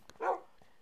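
Minecraft dog in a survival game giving a single short, fairly faint bark, with a soft click just before and quiet after.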